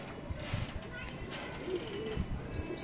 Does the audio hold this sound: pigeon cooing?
yes